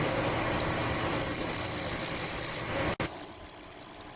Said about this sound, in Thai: คอมทำงานนะครับ แต่มีเสียงดัง